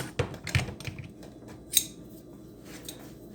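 Big scissors snip through a small strip of material, a few sharp clicks and cuts in the first second, then a brighter snap near the middle, close and quiet with little else around.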